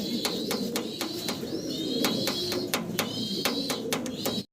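A pair of large white exhibition pigeons coo steadily, with low, repeated rolling calls running through the whole stretch, while sharp clicks and higher chirps from other birds nearby break in at intervals.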